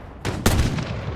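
A single sharp close gunshot in Fallout, a loud crack followed by a decaying rumble and tail, with a fainter earlier hit just before it.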